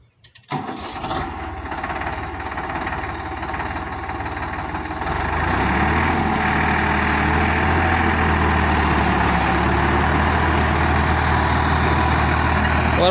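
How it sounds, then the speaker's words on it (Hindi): A Farmtrac 60 tractor pulling a rotavator through a mustard field, its diesel engine starting and then settling into a loud, steady close-up drone with a constant low rumble. "रूटावेटर जुताई कर रही है, सिंगल में, और बिल्कुल बारीक वाहन बना रही है।"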